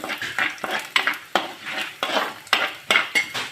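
A metal spoon stirs ginger and garlic frying in a pan as the base for a spicy Kerala fish curry, giving a steady run of close, rhythmic scrapes and clinks with a faint sizzle and no talking.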